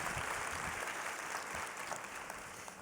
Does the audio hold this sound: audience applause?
yes